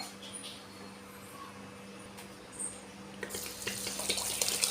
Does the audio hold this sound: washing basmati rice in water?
yes